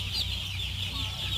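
Chickens cluck steadily on a poultry farm raising meat birds, a soft continuous chorus of fowl with no one speaking.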